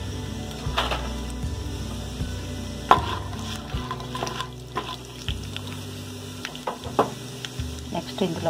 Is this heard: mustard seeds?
yes